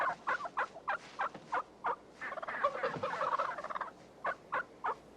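A wild turkey gobbles repeatedly in short rapid bursts, with a longer rattling call in the middle, fairly faint against a quiet background.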